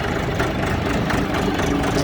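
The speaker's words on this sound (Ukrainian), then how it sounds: "Відвантажимо тракторець Шифер 244CL." A Shifeng SF244CL mini tractor with a 24-horsepower four-wheel-drive engine runs at a steady, loud, rumbling idle close by, with no one talking.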